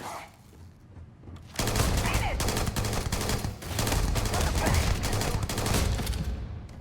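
Automatic weapon gunfire in the video game Starfield, loud rapid bursts that start abruptly and run nearly continuously with brief dips, close and dense.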